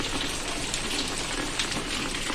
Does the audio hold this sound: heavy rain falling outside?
yes